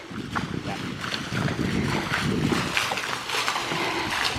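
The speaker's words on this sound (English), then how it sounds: "The water's a little higher today, and the wind is blowing it in this direction, so it's spilling a little louder than it has been." Water spilling over a ledge at a pond spot on a windy morning, a steady rushing wash mixed with gusty wind noise buffeting the microphone, fairly even throughout with no talking.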